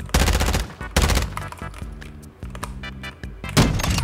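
Shotgun blasts in Call of Duty: Modern Warfare 2 (2022): two loud, close booming shots about a second apart, then a third blast later, with clicking reload and weapon-handling sounds between them.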